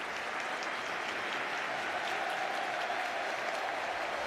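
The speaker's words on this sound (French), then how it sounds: "le public de l'Estadi de Montjuïc qui se lève hein, pour applaudir la sortie du soldat, du guerrier de 18 ans, Pau Kubarsi" Stadium crowd at Estadi de Montjuïc standing to applaud during a Barcelona versus Real Madrid match, a broad, steady roar of clapping heard from a distance for several seconds.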